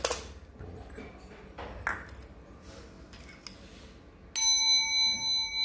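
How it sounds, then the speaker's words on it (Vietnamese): Two small brass bells, about 7 cm across, struck after a brief clatter, ringing out with a bright, sustained metallic ping that decays slowly in a quiet room. "và hai chiếc chuông đồng nhỏ"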